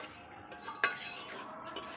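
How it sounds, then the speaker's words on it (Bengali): Brinjal with fenugreek leaves fries in a pan over a wood-fired stove, a soft, steady sizzle broken by a single metal spatula clink, quiet and close with no talking. "এখন মেথি শাক দিয়ে বেগুন ভাজছি"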